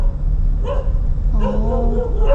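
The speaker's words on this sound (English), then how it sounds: "Oh, look at the dogs. They bark and they run." Dogs in a Thai village barking nearby: a short bark, then a longer run of yelping, whining barks over a low outdoor rumble.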